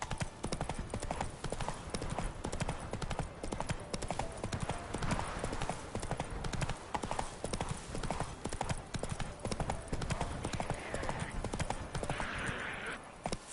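In The Witcher 3, the horse Roach gallops at a fast steady rhythm, hooves clip-clopping continuously and fairly faint, with a voice speaking briefly over the running.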